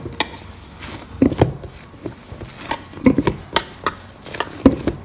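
French bread dough being mixed in a bowl, with a string of irregular knocks, clinks and scrapes from the utensil against the bowl, close and fairly sharp.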